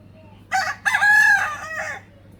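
A rooster crows once from a rooftop, a loud drawn-out call that rises and holds before trailing off, with a low steady hum underneath.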